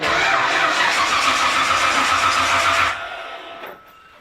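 A Ford 289 V8 engine in a car with a questionable battery cranks and fires up, a loud steady grinding churn for about three seconds before it cuts off and fades into a quieter tail.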